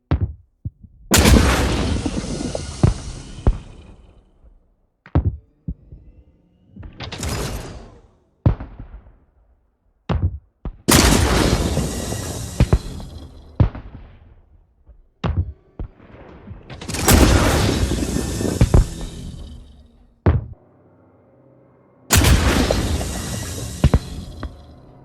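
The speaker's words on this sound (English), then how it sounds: "It's truly a lot of fun to shoot, and it sounds fantastic." A Size 5 Slayer ballistic cannon fires from a Tumbril Nova tank in Star Citizen, with about a dozen heavy, booming shots. Each shot rolls into a long decaying rumble, and short silences separate the rounds.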